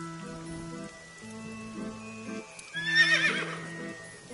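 A synthetic merry-go-round horse whinny in a PS4 game rises briefly near the end over a looping tonal game melody, with soft clip-clop-like ticks along the way.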